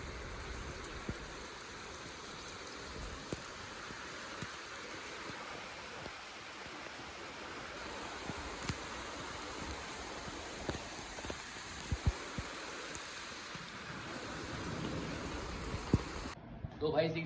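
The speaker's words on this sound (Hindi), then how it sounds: "बारिश अब और ज़्यादा तेज हो गई भाई साहब।" Heavy rain pours steadily outside during a monsoon downpour, a dense continuous wash of noise with scattered louder drips and splashes, fairly close and loud throughout, with no talk over it.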